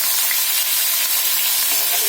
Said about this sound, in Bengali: পোলট্রি মুরগিটাকে আমরা ভেজে নিচ্ছি